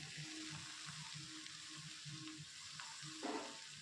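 Vegetables and soaked peanuts fry inside a pressure cooker during a veg biryani preparation, producing a quiet, steady sizzle with a faint rhythmic low hum and a brief stir near the end.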